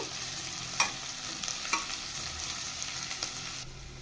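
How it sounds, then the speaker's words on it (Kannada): Onions frying in a pan until golden, a steady soft sizzle with a few sharp stir clicks from a utensil scraping the pan, close and alone with no talk. "ಈರುಳ್ಳಿ ಗೋಲ್ಡನ್ ಕಲರ್ ಬರೋವರೆಗೂ ಫ್ರೈ ಮಾಡ್ಕೋಬೇಕು"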